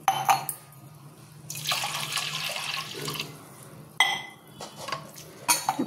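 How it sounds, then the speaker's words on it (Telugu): Water poured from a glass into washed toor dal in a pressure cooker, a steady splashing rush lasting a couple of seconds between clinks and handling noises of utensils, with no talking. "శుభ్రంగా కడిగి పెట్టుకున్న ఈ కందిపప్పులో 2 గ్లాసులు వాటర్ పోయాలి."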